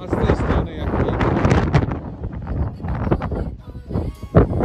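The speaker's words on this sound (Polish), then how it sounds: "Wiatr wieje" Strong mountain gusts of wind in the Tatra Mountains buffet the microphone in loud, uneven bursts, rumbling and roaring with brief lulls between gusts.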